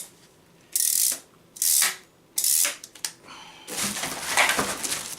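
A metal extension rod on an Amazon Basics bagless cylinder vacuum cleaner (2.5 L, 700 W) being adjusted: three loud ratcheting slides in quick succession, then a longer rattling scrape, close up with no talking.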